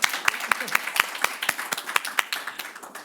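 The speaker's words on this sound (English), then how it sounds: "Can we get some applause for this woman?" Scattered, uneven hand claps from a small audience at a book talk, sharp individual claps at irregular intervals, fairly close and moderately loud, thinning out toward the end.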